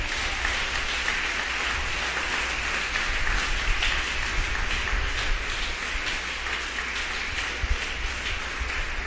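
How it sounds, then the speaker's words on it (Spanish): A church congregation at a Pentecostal service breaks into sustained applause, a dense, even patter of many hands clapping at moderate volume that holds steady throughout. "Al Señor merece un aplauso por eso en esta mañana."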